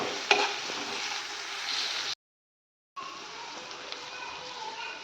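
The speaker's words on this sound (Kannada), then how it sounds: "ಈರುಳ್ಳಿ ಸ್ವಲ್ಪ ಬ್ರೌನ್ ಕಲರ್ ಬರಲಿ ಅಲ್ಲಿ ತನಕ ಫ್ರೈ ಮಾಡ್ಕೊಳ್ಳಿ" Onions frying in oil in a pan with steady sizzling and stirring, close and continuous, cut by a brief silent gap before the frying sound resumes.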